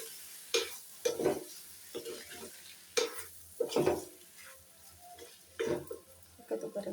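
Mutton being stirred with water in a cooking pot for a curry makes faint, irregular scraping and sloshing strokes, about eight of them, close by and not loud, with a low sizzle underneath.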